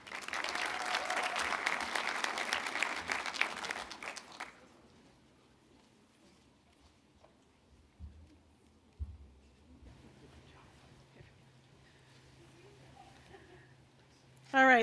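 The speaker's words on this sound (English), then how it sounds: "let's give the School of Health graduates a round of applause" Applause for School of Health graduates at a December 2021 Waukesha County Technical College commencement ceremony: a dense, loud round of clapping for about four seconds, then it cuts off into quiet room tone, with a few brief knocks and a voice at the end.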